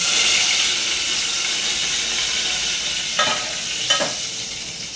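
Hot oil sizzles steadily and loudly as curry leaves crackle in a pan for tempering, with a couple of brief scraping stirs toward the end.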